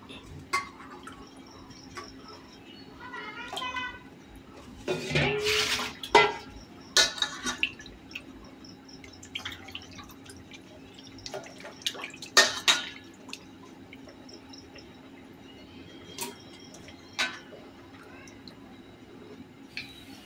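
Fish being washed with salt in water: faint, intermittent splashing, dripping and light clinks of a bowl, quiet and close, with no talking.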